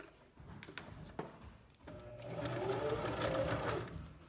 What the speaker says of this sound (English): you're going to sew a straight stitch where you pinned and your seam allowance is 3 eighths of an inch